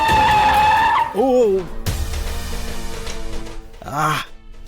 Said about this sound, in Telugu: సార్ ఏంటి సార్ బ్రేక్ వేశారు?